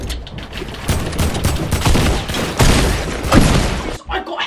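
A dense, loud volley of rapid gunshots in Fortnite rattles on almost without pause for several seconds before cutting off abruptly into a brief quieter moment.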